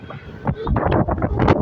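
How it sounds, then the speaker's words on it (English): Strong wind buffets the microphone outdoors at an airport plane-spotting spot, a loud continuous rumble with gusting bursts throughout, with possible faint aircraft noise underneath. "It's so windy though."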